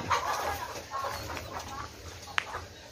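Laying hens cluck softly and intermittently nearby over a low background hum, with one brief sharp squawk near the end.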